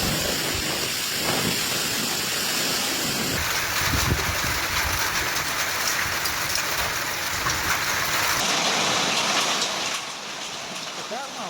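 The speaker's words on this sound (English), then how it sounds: "Heavy rain and hail swept through areas including Vergoreto and Santa Sofia." Heavy rain and hail pour down during a storm in Italy, a steady, dense hiss of drops striking surfaces that fills the whole span, loud and continuous, easing slightly near the end.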